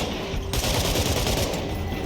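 Sustained full-auto bursts from the AKS Valentine automatic rifle in State of Decay 2, rapid rattling shots loud and close, briefly dipping before resuming, with no talk.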